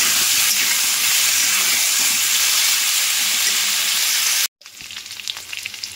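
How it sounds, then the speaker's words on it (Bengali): Potatoes frying in hot oil give a loud, steady sizzle. After a brief cut, quieter sizzling continues with light clinks and stirring. "সেই আলুগুলোকে তেলের মধ্যে লাল লাল করে ভেজে তুলে নেব"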